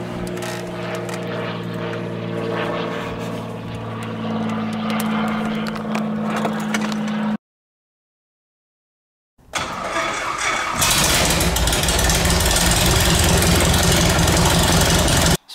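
A modified light airplane engine with a reworked induction system runs loud and steady at idle close by, cuts out briefly, then restarts with a louder, rougher, broadband roar.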